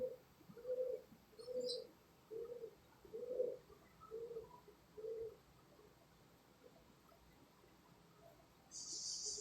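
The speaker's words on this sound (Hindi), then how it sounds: "माशाल्लाह भाईजान, खूब रिंगों में कबूतर होगा और बहुत ही लाजवाब ये कबूतर होगा, ये देखें" Pigeons coo in a steady series of soft, rounded calls about once every half second, fairly close and alone against quiet background, with a brief higher chirp near the start and a faint hiss at the end.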